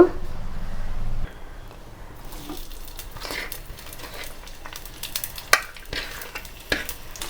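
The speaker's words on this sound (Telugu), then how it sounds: "ఇవి వేసుకోవటానికి ఆయిల్ ఎక్కువ వేడి ఎక్కకూడదు, లైట్ వేడిలోనే మంచిగా ఎర్రగా వేయించుకోవాలి." Food frying gently in a little oil in a pan over low heat, a soft continuous sizzle with occasional stirring clinks and scrapes, close and moderate in level.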